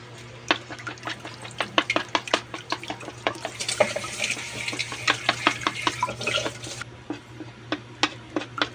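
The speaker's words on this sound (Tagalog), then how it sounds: "Lagyan pala natin ng itlog. Yun. Saka natin haluin." A utensil stirs egg into eggplant sisig in a pan, giving quick rhythmic scraping clicks against the metal over a faint low sizzle, close and fairly quiet.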